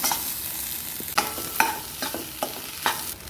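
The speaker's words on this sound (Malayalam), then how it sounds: "ഇനി നമുക്ക് നമ്മുടെ ഉരുളക്കിഴങ്ങ് കൂട്ടി അങ്ങോട്ട് ഇട്ട് കൊടുക്കാം" Potatoes go into a pan with turmeric and chili powder and are stirred, producing a steady frying sizzle cut by several distinct scraping knocks of the spoon at roughly half-second intervals.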